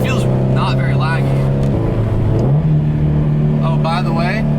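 Subaru STI with an external wastegate accelerating hard from about 4,500 rpm, a loud, steady engine drone that climbs in pitch as it revs, with a voice talking over it inside the car.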